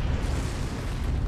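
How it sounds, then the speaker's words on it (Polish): Explosion in the video game Far Cry, a continuous loud low-frequency rumble and roar of blast debris lasting throughout, with no distinct attack, heard alone. "Co to wybucha?"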